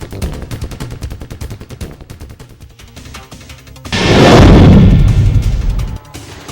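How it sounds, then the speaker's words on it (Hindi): Rapid gunfire from rifles held by fighters of the Sheikh Mansur Battalion on the outskirts of Kyiv, a loud dense burst of shots in the second half over a steady rhythmic background. "हाथों में बंदूक लेकर ताबड़तोड़ फायरिंग करते ये हैं शेख मंसूर बटालियन"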